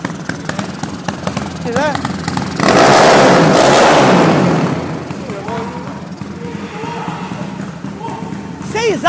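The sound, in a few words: Today Maiki 021 351cc motorcycle engine idling and revving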